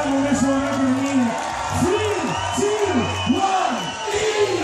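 A crowd at a GrillStock chilli pepper eating contest cheers and whoops in rising, swooping shouts that repeat several times, loud and close, with voices mixed into the noise.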